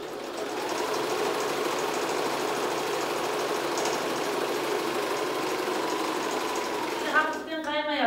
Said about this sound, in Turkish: O yüzden makine bayağı zor dikiyor.